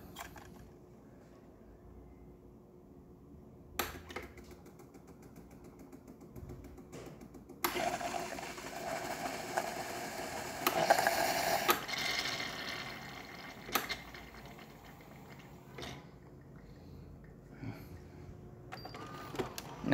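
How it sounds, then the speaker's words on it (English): Gaggia Babila espresso machine with a new water pump running a carafe cleaning cycle, quiet pump hum and clicks with bursts of hissing water and steam, loudest midway, with faint background talk. "Now it's gonna do the cleaning carafe cycles and all that stuff."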